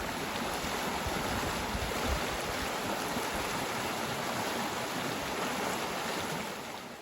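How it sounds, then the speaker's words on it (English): A river at a trail crossing on the Appalachian Trail rushes close by, a dense, steady roar of flowing water that fades slightly at the very end, with no voices. "Another river crossing here."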